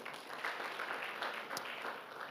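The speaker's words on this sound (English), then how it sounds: "Let's clap for Mr. Dungu one more time." An audience at an education forum in Uganda claps together in a soft, steady wash of applause heard from a distance, fairly faint but continuous for the whole moment.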